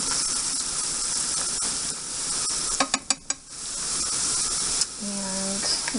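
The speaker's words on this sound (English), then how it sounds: "So right now I'm just going to let these saute and get soft." Vegetables for a chicken pot pie sauté in a pan with a steady, close hiss and sizzle, broken by a quick run of sharp clicks midway and a brief tonal chirp near the end.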